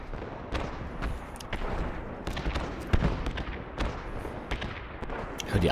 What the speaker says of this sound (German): Ich höre die Artillerie ballern, Alter